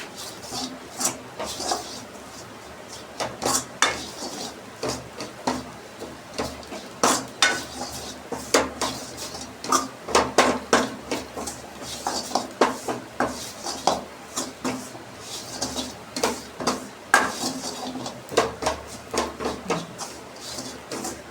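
Steady scraping and clinking of a utensil against a pan, a busy rhythmic stirring sound with a faint sizzle beneath, continuing throughout.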